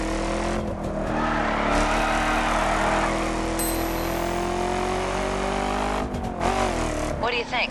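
Cars in the racing video game The Crew give a sustained, loud engine drone with shifting revs throughout, and a voice talks over it.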